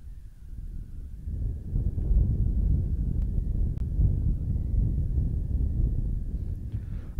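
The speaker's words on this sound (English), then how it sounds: "A little bit windy here at Westbury High School" Spring wind gusting across a high school softball field at Westbury, heard as a continuous low rumble of microphone buffeting with a faint steady tone above it and no talk.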